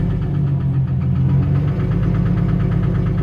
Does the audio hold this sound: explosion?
no